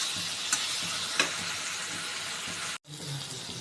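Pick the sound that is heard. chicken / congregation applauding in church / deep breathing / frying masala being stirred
frying masala being stirred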